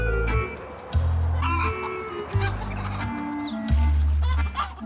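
Hens on a poultry farm cluck and call over a deep, repeating mechanical drone, with busy overlapping bird noises close by.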